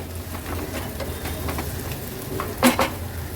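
Softened onions are stirred in a kadhai over a low steady sizzle, with faint scraping strokes and a brief metallic clatter of the spatula against the pan near the end.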